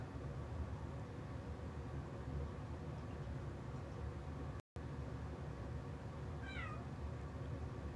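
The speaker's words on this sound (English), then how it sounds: "What are you meowing for?" A single short cat meow rises faintly out of a steady background hiss near the end, heard once and fairly distant.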